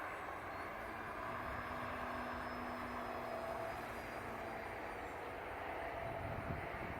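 Dynaflite Bird of Time powered RC glider flying at a distance, giving a steady, faint broadband drone with a thin high motor whine that holds evenly throughout, with no voices present.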